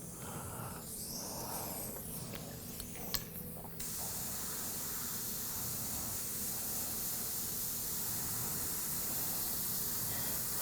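An airbrush hisses steadily as it sprays paint across a biomechanical skull mask, a continuous close airy rush that starts softer with a few small clicks, then swells to a constant loud spray from about four seconds on.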